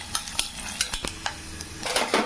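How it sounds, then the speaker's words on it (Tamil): Coconut pieces roast in hot oil in a pan, with a steady sizzle broken by sharp scrapes and clicks of a stirring spoon against the metal, close and alone with no talking. "திருகின கட் பண்ணி வச்சுருக்கேன் தேங்காய் ஒரு 1/2 மூடி இந்த மாதிரி பல்லா இதில் சேர்த்து அப்படியே வறுத்துக்கலாங்க"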